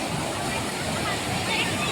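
Floodwater in a swollen river rushes in a steady, dense broadband roar, close and continuous, with no distinct voices standing out.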